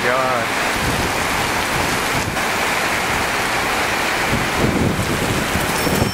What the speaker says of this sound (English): but it's raining so bad right now.